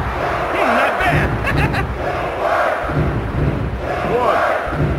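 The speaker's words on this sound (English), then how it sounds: "This crowd is crazy. This is loud." Wrestling arena crowd roaring loudly in waves, a dense wall of cheering and shouting that swells and ebbs several times, with faint voices mixed in.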